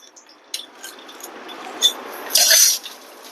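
Mustard seeds spluttering in hot oil in a pan with its lid left slightly open during vegetarian South Indian cooking: scattered small crackles and pops, then a brief, louder hissing burst near the end.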